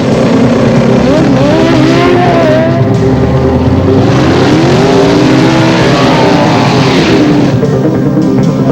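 Drag racing cars at the South African Drag Championships at WesBank Raceway roar loudly and continuously as they accelerate, with engine pitch sweeping up through gear changes over a constant din.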